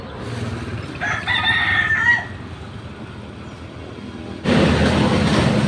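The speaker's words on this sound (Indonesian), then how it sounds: "Ayam hutan, guys." A wild junglefowl crows once in the forest, a mid-distance call, followed by a sudden burst of broadband rustling noise close to the microphone.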